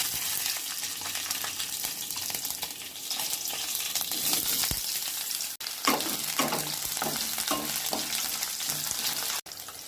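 Nigella seeds, cumin and green chilies sizzling in hot mustard oil, a loud, steady frying hiss throughout with a few stirring scrapes and brief clatters.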